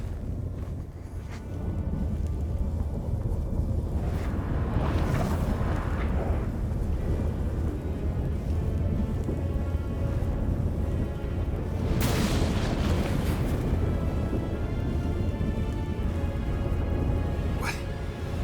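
Storm in The Witcher 3: Wild Hunt, a heavy, continuous roar of wind and rumbling with sudden loud booming bursts, no talk.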